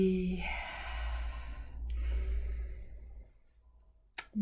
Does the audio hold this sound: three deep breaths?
yes